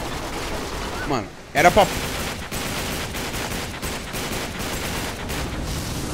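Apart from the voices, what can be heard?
enemy gunfire in the video game Uncharted 3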